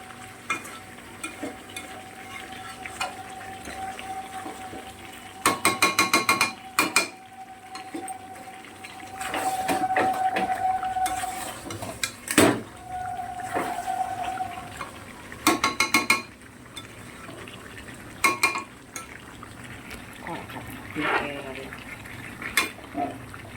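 Chicken being stir-fried in a pot over a low gas flame, with steady soft sizzling broken by repeated scraping and stirring clatters of a utensil against the pot, recorded close up with no talking.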